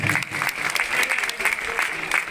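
Crowd at a Dangi community Ram Navami celebration in Biaora claps for the organising committee, a steady, full burst of many hands applauding at close range, with a voice faintly audible beneath.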